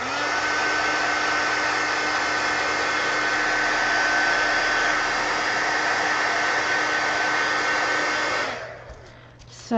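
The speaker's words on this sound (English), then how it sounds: "let me hit this with the heat gun" Heat gun blowing on an art journal, a loud steady whirring rush of air held for about eight seconds before it cuts off and winds down.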